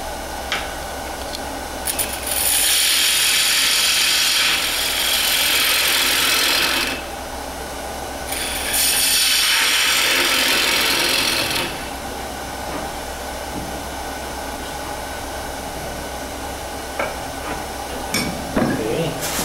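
The bottom of a workpiece being shaped on a wood lathe: the machine hums throughout while two long, loud hissing tool cuts sweep in close, followed by quieter scrapes and knocks.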